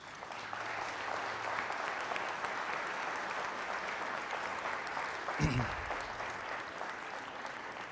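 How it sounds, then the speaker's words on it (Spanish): Sustained audience applause at the Electricon 2016 closing ceremony, a dense wash of clapping that holds steady throughout, with a brief thump partway through. "pedirles un fuerte aplauso para ellos."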